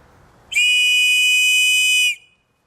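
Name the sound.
Opinel Explore knife's built-in survival whistle being blown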